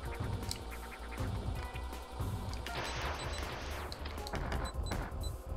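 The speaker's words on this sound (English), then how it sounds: "Why aren't my missiles working on it anymore?" Missiles fired repeatedly at Arachnus in the Metroid II remake AM2R, a dense run of sharp blasts and crashing impacts layered over game music, with rapid rhythmic bursts and a brief bright electronic chime pattern.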